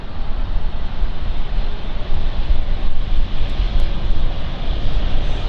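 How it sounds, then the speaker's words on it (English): An inbound aircraft from Belfast comes in to land at London City Airport, a loud, close engine rumble with gusty fluctuations that stays heavy throughout, heard alone without speech. "So this inbound flight"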